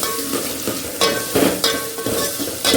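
Onions and red chillies sizzle in a hot pan for sambar, a steady close frying hiss broken by several bursts of stirring scrapes, with no talk.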